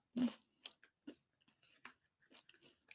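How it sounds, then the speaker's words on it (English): Dry pretzel sticks being chewed close to the mic, a loud first crunch followed by a run of short, irregular crunchy clicks with brief gaps. "Sorry, I'm like chewing."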